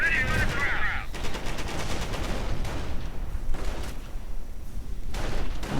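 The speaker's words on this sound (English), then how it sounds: "Mortar rounds right into German lines." Mortar fire in a World War II real-time strategy match between German and opposing forces: a dense, continuous barrage of booming blasts and crackling gunfire, loud throughout, with a shrill high whine in the first second.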